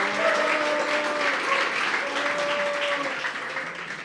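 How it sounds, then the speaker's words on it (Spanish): A church congregation at a Christmas service applauds in a sustained burst of clapping, with some voices and cheering mixed in. "Denle un aplauso a Sarita."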